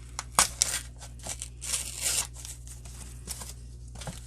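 Scissors cutting through a recycled paper bag for mixed media tags, with crisp snips and rustling crinkles in uneven bursts, close by and moderately loud, no voices.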